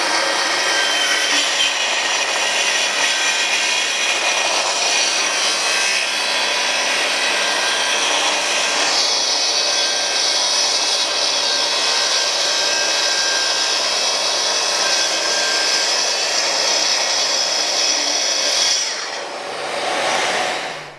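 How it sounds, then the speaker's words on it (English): A Festool TS55 track saw cuts a long pass through wood with parallel guides fitted, a loud, steady high whine that holds for about eighteen seconds before the blade spins down. "we'll cut this exactly the same way using the TS55"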